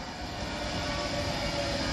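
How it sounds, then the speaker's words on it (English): Virgin train, a Pendolino 390 bound for Glasgow, rolling into Wigan North Western station with a steady low rumble and hum, moderately near and unbroken, with no talk. "now arriving in is a slight delayed 2025 Virgin Train service"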